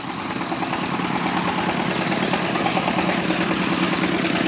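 A vehicle engine runs close by on a hiking trip in Nepal, a steady loud rumbling drone with constant vibration and no talk over it.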